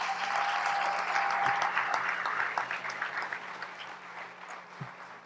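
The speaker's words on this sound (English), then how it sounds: "Let's give her a big round of applause." Dense, loud audience applause fills a Jamaican business award banquet hall, holding steady before slowly tapering off, with a faint steady tone running beneath at first.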